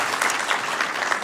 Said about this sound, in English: Let's give a big round of applause for 18 years with the Air District.